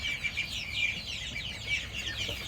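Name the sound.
bantam chicken clucking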